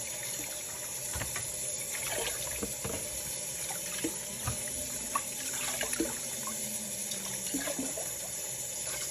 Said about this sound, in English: You rinse fish with cold water, not with hot water or warm water.